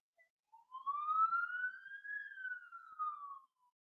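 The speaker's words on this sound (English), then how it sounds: "An ambulance is going like 10 miles an hour." An ambulance siren rises and falls in one long, smooth wail, starting faint, swelling and then fading as the vehicle crawls slowly past at a distance with no other sound.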